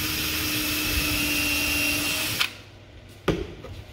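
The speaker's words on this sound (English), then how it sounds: "So we just go ahead and pre-drill." A power drill pre-drilling holes runs in one steady, loud whine, then stops and gives a brief second burst, nearby with no speech.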